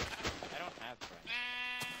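Sheep in Minecraft bleat in short wavering calls, one clear bleat near the end following a couple of earlier ones, heard close, with a player's voice speaking over parts of it.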